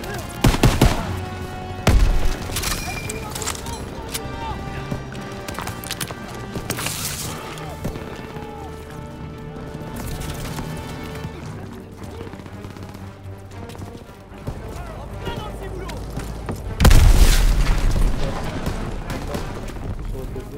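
Artillery explosions and gunfire in the World War II shooter game Call of Duty WW2, with booming blasts and machine gun bursts over a dense battlefield din and music, and a heavy impact near the end.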